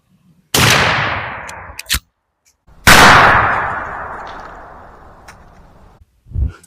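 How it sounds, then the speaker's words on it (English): A 12 gauge shotgun loaded with Federal Powershok 00 buckshot in 2.75-inch shells fires one loud, close blast that decays slowly. A short sharp crack follows, then a second full blast with a long fading echo and a brief thump near the end. "we're going to shoot 4 more times and see what kind of pattern we get"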